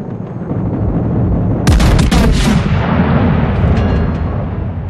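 Naval guns on a warship in World of Warships, the Thunderer, going off as a heavy booming salvo of several close blasts over a steady rumble of engine and sea.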